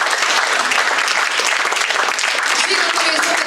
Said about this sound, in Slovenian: Tudi en aplavz za tako solidarnostno pomoč